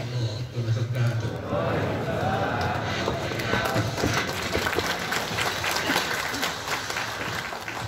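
Sustained applause from a seated crowd at a Muhammadiyah Hajj gathering in Makkah, following a speech; steady dense clapping fills the whole stretch with murmuring voices beneath.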